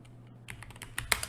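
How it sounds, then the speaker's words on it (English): Quick keystrokes on a computer keyboard, a short burst of five or six light, close clicks in an irregular rhythm after a brief quiet pause. "Why can't I type SIGA?"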